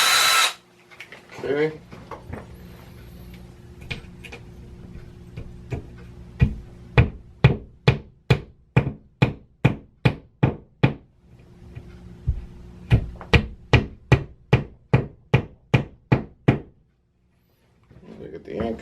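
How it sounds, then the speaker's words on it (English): Two long runs of steady, evenly spaced hammer blows, close and loud, drive anchors into a wall. A brief bit of noise and a short spoken word come at the start. "I gotta put a couple of anchors right in that wall right there"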